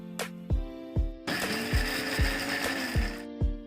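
A kitchen mixer grinder crushes onion, ginger and green chilli in short pulses, rhythmic thumps around one long loud whirring burst of the motor, close and with no talk.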